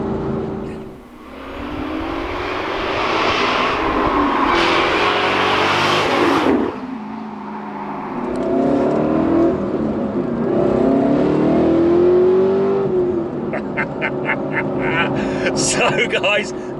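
Walkinshaw Performance VXR8 with a mechanical manual gear lever, engine revving loud and close from inside the cabin, rising through gears with shifts and a sharp throttle blip, while occupants talk over it.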